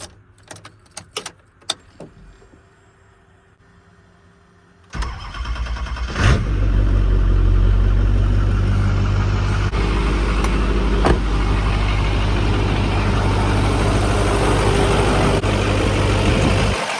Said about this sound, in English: we're gonna fire the truck up, double check for leaks